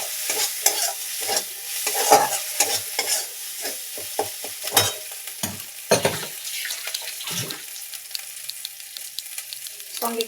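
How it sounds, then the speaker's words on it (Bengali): Shrimp, potato and eggplant sauté in hot oil with ginger-cumin paste, giving a steady sizzle broken by repeated scraping stirs of a spatula against the pan, loud and close. "এই যে আদা জিরে বাটা, আদা জিরে বাটাটা এর সাথে কষতে হবে।"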